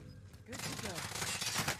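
Burst of rapid gunfire in a Warzone match, a dense crackling volley that starts abruptly and continues loud and close, with a voice partly under it.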